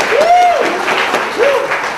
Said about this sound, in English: let's give Estela another big round of applause